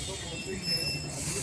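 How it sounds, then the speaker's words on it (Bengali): A goods train rumbles past nearby, a steady low roar of wheels with faint high metallic squeal running throughout, and voices chatter faintly beneath the noise. "এটা মালগাড়ি।"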